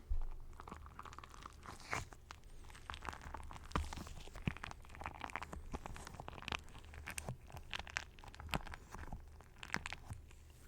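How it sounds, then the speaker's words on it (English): A crunchy soap block squishy toy is squeezed close to a sensitive mic, giving a steady stream of dense crackling crunches and sharp crisp snaps that keep going without pause, with no speech. "the fan favorite so far, and my favorite still, the soap block, but the crunchy soap block"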